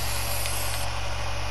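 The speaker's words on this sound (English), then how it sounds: "Spray paint all over the school." A spray paint can hissing in Fortnite, a dense continuous broadband spray held steadily at close range over a low droning hum, with no talk.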